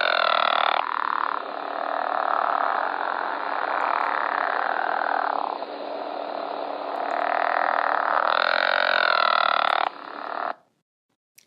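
Pickerel frog calling in a steady, loud, snoring croak that runs for about ten seconds with rising and falling intensity, then stops, leaving near silence.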